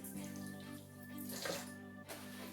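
Warm water poured from a tap or jug to mix with salt for homemade salt-dough Christmas ornaments, a steady close splashing flow running throughout with a brief surge midway.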